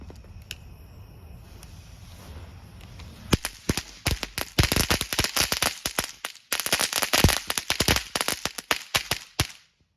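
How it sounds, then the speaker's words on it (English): A long, dense burst of sharp crackling pops from a novelty crackling-strip firework, rapid and irregular, loud and close, beginning after a few seconds of quiet background hum. "It's just crackling strip that goes around the outside."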